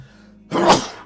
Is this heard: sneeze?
yes